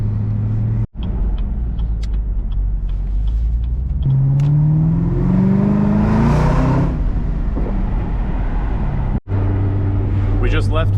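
A Chevrolet Camaro ZL1 cruises on 17 Mile Drive toward Carmel, its engine a loud steady rumble inside the car that swells into a rising rev midway, while someone talks over it.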